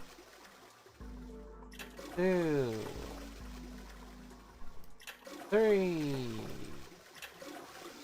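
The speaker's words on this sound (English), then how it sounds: "Gotta be how many times you flushed." A toilet flushing twice in the video game Zero Escape: 999, each flush a gurgling rush of water that rises and drains away, with a voice counting quietly over the sounds.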